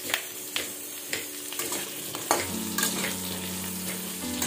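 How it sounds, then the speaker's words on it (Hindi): Potatoes fry in a pan with a steady sizzle, broken by periodic scrapes and knocks from stirring, close by with a faint background hum and no talking. "आलू को भल भाव फ्राई कर"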